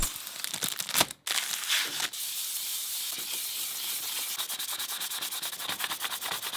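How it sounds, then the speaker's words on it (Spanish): Rapid, rhythmic scratchy rubbing strokes of sandpaper lightly sanding a plastic Rubik's cube, close up, pausing briefly then continuing steadily. "no sé si pegarle una ligera lijadita, solo para quitarle ese esmalte"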